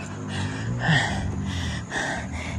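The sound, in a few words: heavy panting after a steep climb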